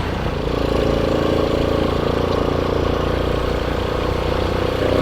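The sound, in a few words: Suzuki Smash 2004 motorcycle engine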